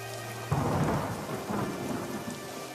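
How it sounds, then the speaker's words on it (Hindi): In an animated cartoon, a deep roll of thunder breaks out over steady heavy rain, rumbling loudly and then easing while the downpour keeps hissing. "बारिश थी कि रुकने का नाम तक नहीं ले रही थी"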